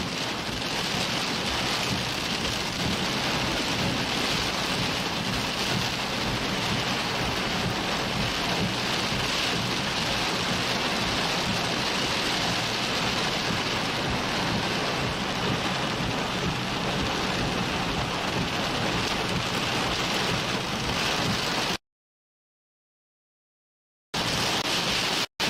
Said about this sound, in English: heavier rain, maybe a little hail, a lot of lightning coming into College Station now